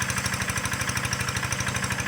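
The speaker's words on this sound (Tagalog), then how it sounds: "Yan yung motor." Steady motor chugging with a fast regular pulse, running continuously beside flowing water at a bathing spot that drains into a fishpond, loud and close with no talking.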